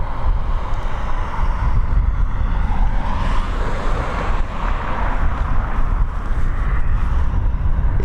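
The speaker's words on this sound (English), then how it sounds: "Just coming into shot now, EIDW, this Airbus A320 heading over to Lanzarote." An Airbus A320 passes over Dublin Airport, a steady loud jet roar with heavy low rumble that swells slightly midway, mixed with wind buffeting the microphone.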